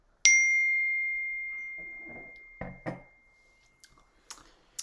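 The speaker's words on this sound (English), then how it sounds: "I did forget to turn off my notifications." A phone notification ding sounds during a rosé wine tasting: one bright, close chime with a long ringing decay, followed by faint clinks and soft rustling.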